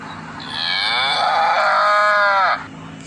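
A person wearing a mask imitates a cow's moo, producing one drawn-out, fairly loud lowing call of about two seconds with no other talk.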